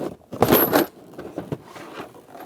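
A small plastic trim tool pries up a tail light clip on a 2014-2019 Toyota Highlander, giving a brief cluster of sharp plastic snaps and scrapes up close, then quieter handling.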